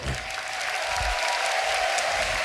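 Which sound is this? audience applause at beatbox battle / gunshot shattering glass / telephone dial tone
audience applause at beatbox battle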